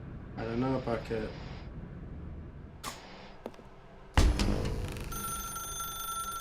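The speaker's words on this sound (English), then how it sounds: "Now pick up the phone." Telephone ringing in The Stanley Parable Ultra Deluxe, starting late with a bright, sustained electronic ring after talk and a few sharp clicks and bursts earlier.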